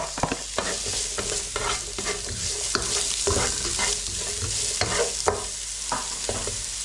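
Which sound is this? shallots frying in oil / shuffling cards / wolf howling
shallots frying in oil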